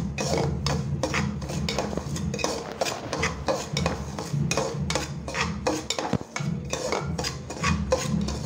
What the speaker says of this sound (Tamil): இதை இப்போ நல்லா நம்ம கிண்டி வறுத்து எடுத்துக்கலாம்.